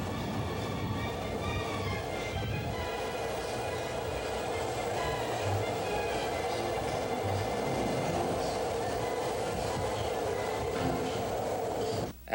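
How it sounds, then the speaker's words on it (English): A BART train accelerating out of Powell Street station in San Francisco, a steady close rumble with tonal motor whine throughout, ending abruptly. "The trains accelerate at 3 miles per second."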